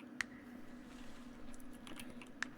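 A computer keyboard key pressed during play of the horror game The Forest Quartet, giving a couple of sharp, isolated clicks over a faint, steady background hum.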